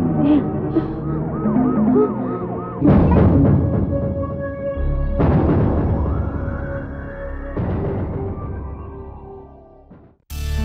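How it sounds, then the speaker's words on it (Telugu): A police car siren wails loud and close, its rising and falling tones repeating for about ten seconds with changing pitch as it moves, before cutting off abruptly. "అది పోలీస్ సైరన్లా ఉందే."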